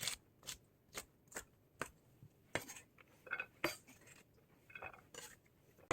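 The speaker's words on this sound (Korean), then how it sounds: "마침 냉장고에 마늘종이 있어서 한 움큼 갖고 왔어요. 얘도 한번 이렇게 짤막짤막하게 썰어줄게요" A kitchen knife chops garlic scapes into short pieces on a board, giving a close series of sharp, crisp taps, quick at first and then more irregular, with no voices.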